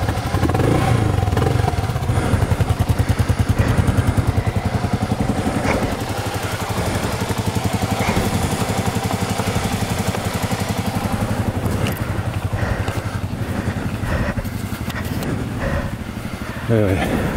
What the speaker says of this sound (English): We can get the old KLR running.